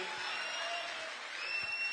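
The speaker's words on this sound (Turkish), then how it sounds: "Alkışlarınızla." Applause from a concert or televised event audience in Turkey, a steady wash of clapping held at a moderate level for about two seconds with faint crowd noise beneath.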